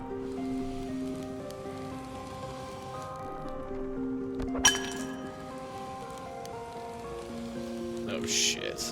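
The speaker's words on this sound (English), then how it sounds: "I like how they said this had rain ambience" Rain ambience in a climbing video game: a steady static-like hiss of rainfall runs beneath sustained musical tones, with a sharp clink near the middle and a brief burst of noise at the end.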